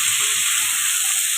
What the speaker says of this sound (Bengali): মূলোটাকে দিয়ে আমি আর একটু হালকা অবস্থায় নাড়িয়ে চাড়িয়ে নেব।